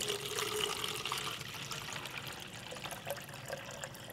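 Water pours from a container into a plastic bottle while a self-watering bottle ecosystem with wicks is built, making a steady, close splashing trickle that lasts about four seconds with no talk.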